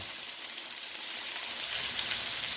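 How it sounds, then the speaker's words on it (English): A steady, bright hiss of liquid sizzling in a hot pan, swelling slightly louder partway through, with no talking. "Splash cooking wine in. Make sure your frying pan is hot before you add the wine."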